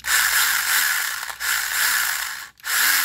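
Stihl GTA26 mini cordless chainsaw revving in three bursts, each a bright high whine with a rattling chain, broken by short dips and one near-silent gap, heard close and alone.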